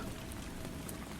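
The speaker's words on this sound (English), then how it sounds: "Rain begins to tap against the living room window" Steady rain patters against a living room window, a dense, even hiss of droplets with no pauses, heard alone.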